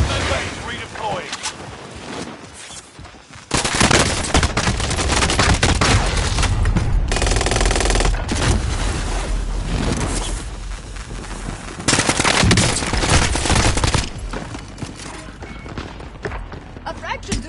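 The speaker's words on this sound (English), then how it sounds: "Taking heavy fire here!" Heavy gunfire in a PS4 shooter game: dense, continuous bursts of automatic fire and booming impacts, loud and close, with in-game voice lines spoken over the barrage.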